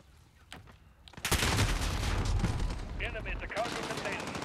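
Sustained automatic gunfire in Call of Duty: Modern Warfare, a dense continuous barrage erupting after a quieter opening and staying loud throughout, with game voice lines mixed in.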